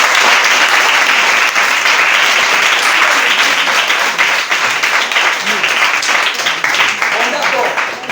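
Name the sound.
church congregation applauding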